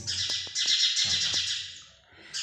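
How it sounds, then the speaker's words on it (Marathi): Busy high-pitched chirping from house sparrow chicks, rapid and overlapping, with a few sharp clicks in between and a brief lull near the end. "तिथून चिमणी त्या पिल्लावासाठी आपल्याला आवाज दिलेली आहे"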